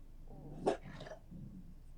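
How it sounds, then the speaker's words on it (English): Dogs give a single short bark or growl near the middle, brief and moderately loud against a quiet indoor background. "My dogs say hi."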